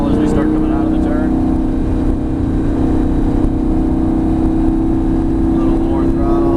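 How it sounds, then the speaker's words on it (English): A Lamborghini Gallardo at full throttle on a track, its engine a loud sustained droning roar held at high revs, with a voice talking over it. "Full throttle down this straightaway now. Let the car rev up. Stay full throttle."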